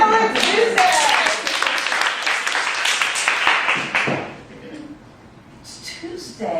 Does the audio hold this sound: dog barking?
no